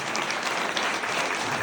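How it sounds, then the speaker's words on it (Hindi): A seminar audience claps together in a dense, continuous burst of applause that fills the short moment. "अब ताली कौन बजाएगा?"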